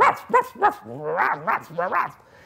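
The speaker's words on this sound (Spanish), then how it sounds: "Entonces se acercó también el perro y empezó a ladrar." A dog barks in quick yips, then whimpering, whining barks follow, fairly close and loud with no other sounds.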